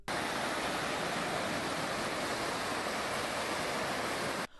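Steady, dense rushing floodwater from a heavy rainstorm roars through city streets without pause, a broad hissing torrent like a swollen river, loud and unbroken until it cuts off at the end.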